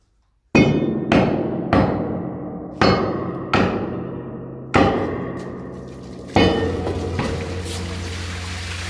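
Someone bashes the metal door of an old water tank with a series of loud ringing clangs, about seven hard strikes at irregular intervals, each leaving a long metallic resonance that decays before the next blow.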